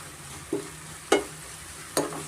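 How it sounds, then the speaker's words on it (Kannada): Tomatoes fry in a pan for butter paneer masala: a soft steady sizzle underlies three brief, distinct spoon-on-pan taps or scrapes, close and fairly quiet, with no voices. "ಟೊಮೆಟೊ ಸಾಫ್ಟ್ ಆಗೋರೆಗೂ ಸ್ವಲ್ಪ ನಾವು ಫ್ರೈ ಮಾಡ್ಕೊಳ್ಳೋಣ"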